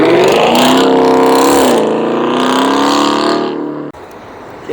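A Porsche engine revs hard and loud at a cars-and-coffee meet, a sustained rising roar with a gear change midway before cutting off abruptly.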